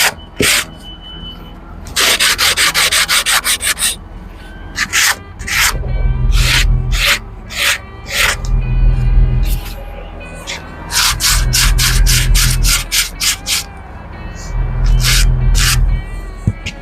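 Fine sandpaper, 180 to 240 grit, rubs back and forth over wood by hand in a van interior, making rhythmic rasping strokes in quick bursts, close and clear, with brief pauses between sets.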